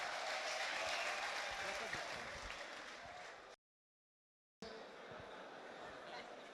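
Faint applause from a crowd of motorcycle-taxi riders at a police meeting in Rwanda, strongest at the start and thinning out, cut by a brief dropout to silence before resuming softly.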